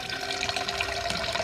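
Tap water runs from a faucet into a stainless steel measuring cup at a sink. The gushing is steady and close, its ringing tone rising slightly as the cup fills, with no talking.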